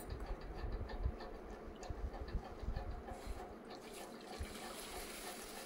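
Water is poured onto tamarind pulp in a bowl while making tamarind rice, a soft trickling and splashing close by, fairly faint and without talk.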